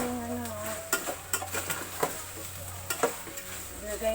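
Meat for menudo sizzles in a frying pan while a spoon stirs it, a steady close frying hiss broken by repeated sharp scrapes and clinks against the pan.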